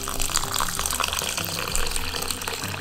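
Hot water, not quite boiling, pours from a tap or kettle over raw rice to soak it, a steady splashing gush heard up close with a low hum running underneath.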